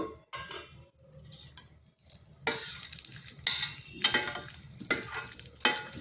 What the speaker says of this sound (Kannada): ಈಗ ಎಣ್ಣೆಗೆ ಇವೆಲ್ಲ ಹಾಕ್ಕೊಂಡು ಹುರಿಯೋಣ